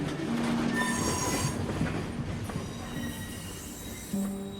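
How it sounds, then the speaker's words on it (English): Train pulling into Köpenick station in the game Through the Darkest of Times: steady rolling rumble with sustained wheel squeal tones, continuous and fairly loud throughout, no talk. "I exit the train at Köpenick station"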